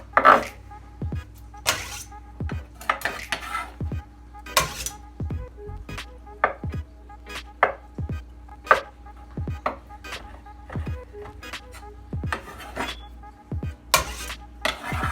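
Soft-boiled eggs roughly chopped with a knife on a cutting board, giving a long run of sharp, close, uneven knife taps against the board, with a steady low hum underneath.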